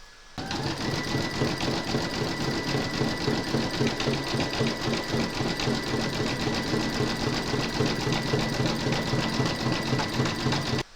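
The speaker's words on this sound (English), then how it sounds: "I'm going to stitch round number 8, and that's going to zigzag all the raw edges of both pieces." A sewing machine runs steadily, zigzag stitching the raw edges of two layered fabric pieces for a medical alert bag tag, giving a fast, even mechanical whir that starts abruptly and holds for about ten seconds with no talking.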